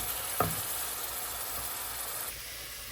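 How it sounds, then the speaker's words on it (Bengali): Ginger and garlic paste sizzling in hot oil in a pan, a steady close hiss filling the whole stretch with one brief sharp spatter near the start. "এখানে এখন আমি আদা রসুন দিয়ে দিচ্ছি 1 চামচ।"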